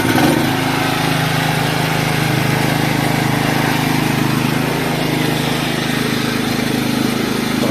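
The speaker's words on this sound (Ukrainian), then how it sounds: "генератор завівся без проблем. Його трошки кидає." A KAMASTSU petrol generator runs steadily with no load just after an oil change, a loud continuous engine drone with a slight unevenness, close by and alone throughout.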